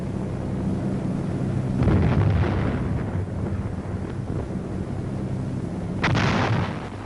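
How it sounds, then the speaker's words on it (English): Heavy artillery barrage firing in the Korean War, a series of deep booming blasts that thunder out and rumble away, two strong volleys standing out over a continuous low rumble. "And heavy artillery barrages."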